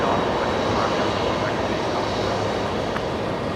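A Link Airways Saab turboprop touches down on runway 01 right at Brisbane Airport at night, its engines a loud, continuous broadband roar that holds steady throughout.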